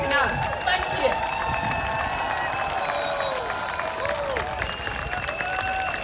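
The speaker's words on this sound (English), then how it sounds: "big applause to these countries for supporting us" An outdoor crowd at a London rally marking four years of Ukrainian resistance applauds and cheers, a steady wash of clapping with scattered shouts and whistles that runs continuously behind the noise of the gathering.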